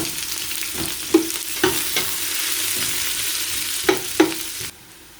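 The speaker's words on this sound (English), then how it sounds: "So now we can add our onions and cook until light golden. Give it a stir." Onions frying in oil in a pot while being stirred, a loud continuous sizzle punctuated by several spoon scrapes and knocks, close up, ending abruptly.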